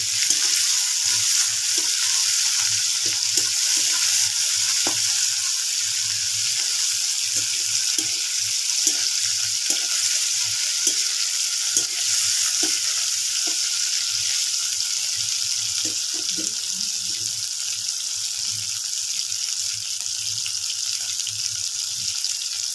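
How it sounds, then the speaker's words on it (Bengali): Tomatoes fry in a pan for a jackfruit curry, giving a steady, loud sizzle throughout with scattered scraping and stirring clicks and no voices. "টমেটোগুলো আমি খুব ভালোভাবে ভেজে নেব।"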